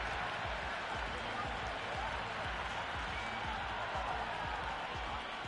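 A stadium crowd roars and cheers in the cricket video game Cricket 26, a dense, continuous wash of massed voices that holds at a steady loud level for the whole stretch.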